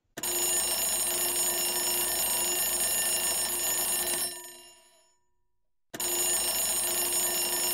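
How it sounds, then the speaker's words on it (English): A JavaScript digital alarm clock's electronic alarm tone rings loudly and steadily, cuts off for about a second and a half, then starts ringing again. "You have heard that alarm tone"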